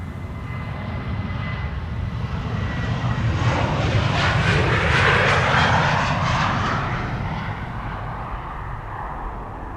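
A jet airliner passes overhead at Amsterdam Schiphol Airport, its engine roar swelling loudly to a peak midway and then fading, a broad sustained rush with no talk.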